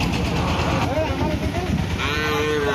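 A cow at a cattle market lets out a drawn-out moo, then another lower call, close by amid the crowd's chatter and talk.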